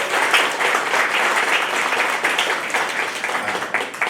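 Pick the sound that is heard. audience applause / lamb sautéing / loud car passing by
audience applause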